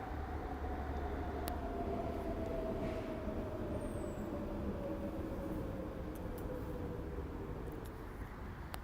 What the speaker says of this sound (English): I can't stop the train sounds.